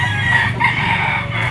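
A yellow-legged straight-comb stag rooster crows once, close and loud, and the harmonic call holds for the whole short moment.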